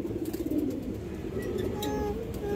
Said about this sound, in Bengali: এগুলো ইন্ডিয়ান হাই ফ্লাই কালদম কবুতর দর্শক